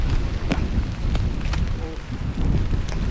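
Strong wind roars and buffets continuously, with gusty rushing noise and occasional thumps.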